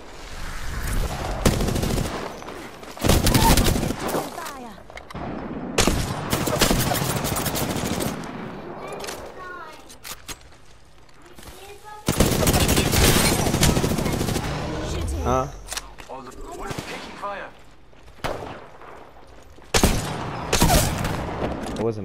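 Video game gunfire in a shooter match, repeated bursts of automatic fire and single shots, some loud and close and others farther off, with short pauses between volleys and a player talking now and then.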